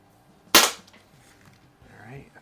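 A single sharp pop from a pump-up air gun, either an Apache Fireball or a Crosman 600, fired close by and followed by quiet room tone and a brief bit of faint voice.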